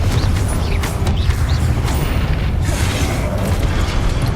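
Confringo blast spells in Hogwarts Legacy, rumbling booms and bursts layered over dense, loud combat noise, repeating through the whole stretch.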